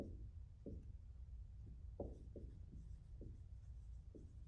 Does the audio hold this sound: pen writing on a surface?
yes